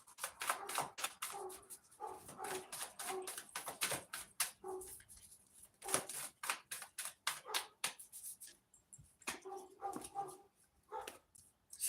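A dog barks repeatedly in quick, uneven bursts with short pauses between them, fairly faint and distant, over a muffled background without talk.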